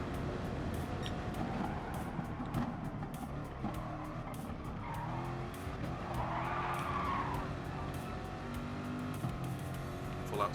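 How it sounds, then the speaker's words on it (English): An Audi TT skids through the Lesmo corner in a racing video game, its tires squealing in a sustained, loud slide over steady engine roar. "Skid round the corner into the Lesmo"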